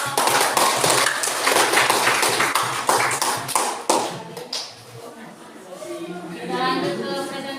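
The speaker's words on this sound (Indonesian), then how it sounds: "Kita beri aplaus dulu" A classroom group claps for a presenting group during a lesson, with dense, steady applause for about four seconds that then thins out as a voice begins speaking.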